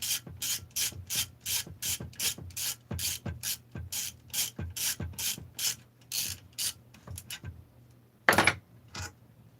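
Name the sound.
screw extractor (easy out) removing crankcase bolts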